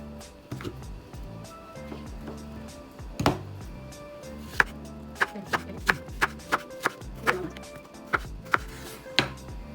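A knife chops spring onion on a cutting board in a kitchen, a quiet run of sharp, evenly spaced taps close by that quickens toward the end.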